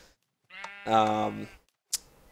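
Sheep in Minecraft bleat once, a short clear nasal call, preceded by a faint click and followed by another quick click in an otherwise quiet scene.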